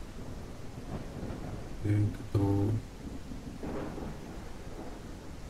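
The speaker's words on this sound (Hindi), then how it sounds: "बहुत जोर से तूफान आ रहा है" A thunderstorm with rain in the video game Ranch Simulator 2 rumbles under a steady rain hiss, with a few short game tones. A voice speaks briefly.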